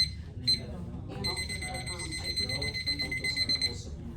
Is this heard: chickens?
no